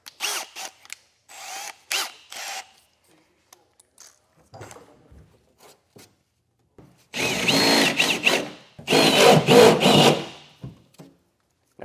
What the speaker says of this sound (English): First, I am going to use a step bit and just get it a little bigger.